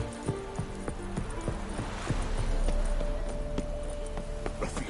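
Horse hooves clip-clopping at a steady walking pace in The Witcher game, crisp repeated knocks on hard ground, fairly close, over faint background ambience.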